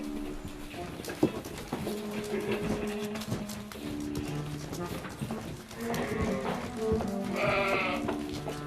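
Sheep bleat repeatedly in a stable in the Austrian Alps, sheltered from deep snow, mixed with other animal and bird calls at moderate, steady loudness; a voice may speak faintly.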